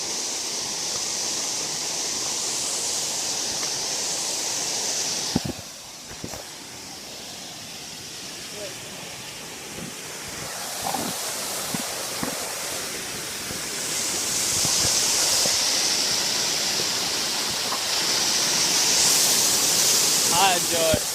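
Waterfall near a natural water cave in Chiang Mai, a steady broad roar of falling water that swells louder toward the end, with people talking intermittently over it.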